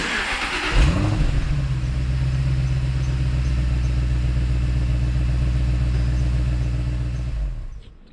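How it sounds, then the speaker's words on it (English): Jaguar S-Type R V8 engine starting up and idling, a deep, steady low rumble close by, fading out after several seconds. "It's a V8 and it sounds like this."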